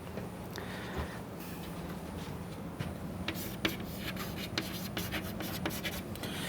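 A lecturer writes out an algorithm on a board during a lecture on PAC bounds, producing a steady run of close, scratchy strokes and taps for several seconds, with no talking.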